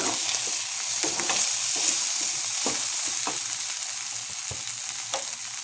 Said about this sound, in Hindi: उदय के टिफ़िन्स के लिए प्याज, शिमला मिर्च और पनीर के साथ एक बहुत ही सिंपल सी सब्जी बना दी है